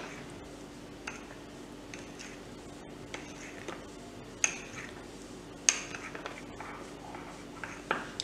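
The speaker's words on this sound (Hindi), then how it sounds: "और इसमें इसको हल्के हाथों से मिक्स कर लेंगे" A spoon stirs chocolate mug cake batter with added milk inside a mug, giving light irregular clinks and scrapes over a quiet steady hum with no talk.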